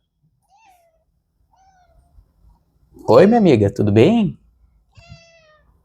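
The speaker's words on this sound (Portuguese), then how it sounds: "A gata atrapalhando aqui." A house cat meows indoors, with one faint mew early on and a couple more faint calls near the end, while someone speaks loudly in the middle.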